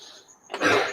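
A single harsh, breathy cough from a sick animal, with a short throaty rasp before it, up close in a shed.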